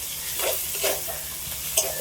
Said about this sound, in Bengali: সবগুলো একসাথে একটু ভালো করে নেড়ে নেব।